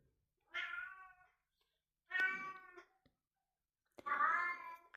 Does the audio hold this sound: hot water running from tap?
no